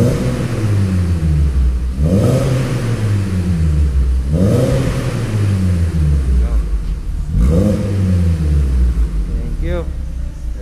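A Volkswagen Polo engine on a workshop lift revving in three quick blips, each rising sharply in pitch and then winding back down to a steady idle rumble, loud and close.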